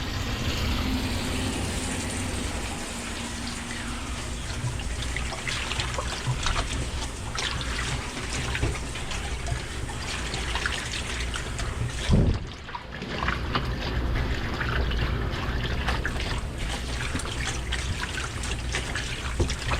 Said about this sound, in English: we'll fill up this 5-gallon bucket